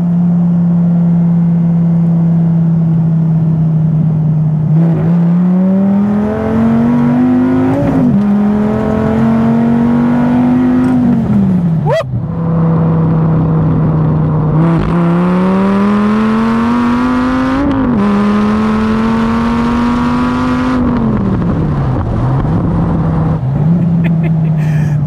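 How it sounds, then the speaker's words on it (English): A Dodge Viper GTS pulls hard in second gear, its engine note climbing in repeated rising sweeps broken by brief dips at the shifts, loud and steady from inside the car with no talking. "All right, little second gear pull here."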